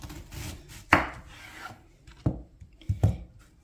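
Knife chopping through onions for an octopus, shrimp and squid salad, three or four sharp close strikes on a board with soft rubbing and shuffling between them.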